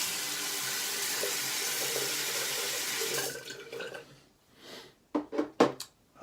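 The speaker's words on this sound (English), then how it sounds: "I'm gonna rinse the old face." Tap water runs steadily into a bathroom sink for about three seconds, then cuts off, followed by a few loud close splashes as a face is rinsed.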